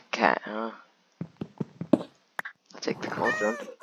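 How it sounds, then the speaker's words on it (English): A cat meows in the Minecraft video game, two clear meows at the start and a longer one near the end, with sharp taps and knocks in between. "Black cat, huh?"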